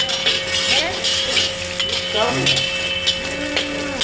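Mutton frying in hot oil in a karahi gives a steady sizzle, mixed with scraping and clinking as a utensil stirs against the pan.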